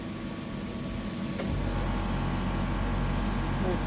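A spray gun sprays pearl white paint onto a fishing lure, a loud, steady close hiss of air and paint that holds throughout, building slightly after a moment.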